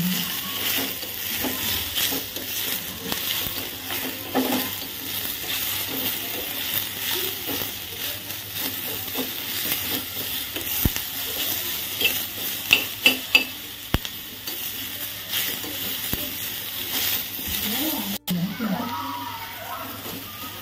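Chili chicken stir-frying in a pan over gas, a dense sizzle running throughout with repeated scraping and clattering of a utensil against the pan, several sharper knocks midway, and voices talking intermittently over it.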